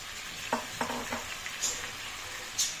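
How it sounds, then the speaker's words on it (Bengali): Onions and chicken fry together in a pan, with a soft continuous sizzle and a few quick spatula stirs and light clinks, heard close and alone. "এবার তাতে দেব এই বাকি রেখে দেওয়া পেঁয়াজগুলো এগুলো সব ভাজা হবে একসাথে পেঁয়াজ দিলাম"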